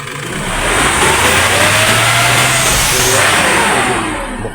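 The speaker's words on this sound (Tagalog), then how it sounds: "Makinig tayo sa engine." An Isuzu MU-X diesel SUV engine running close by, a loud steady hum that swells as it revs up and then eases back, with no talking over it.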